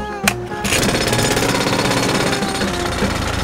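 A power drill whirs continuously and harshly after a short click, loud and close, with no pauses.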